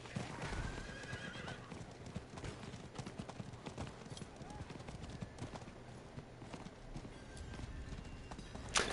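A horse in the video game Diablo IV whinnies loudly and gallops, its rapid clip-clop hoofbeats running steadily throughout amid a busy mix of other game sounds.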